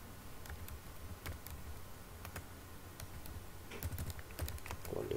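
Keys clatter on a computer keyboard while an online job application form is filled in, heard as a quiet, irregular run of clicks over steady room hiss, with no voice.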